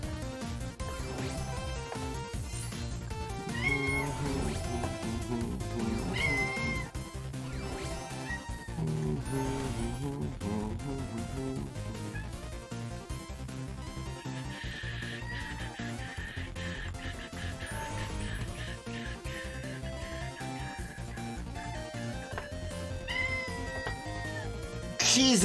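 A pet cat meows intermittently close by during a Storybook Brawl game session, its cries mixed into steady game music and someone talking throughout.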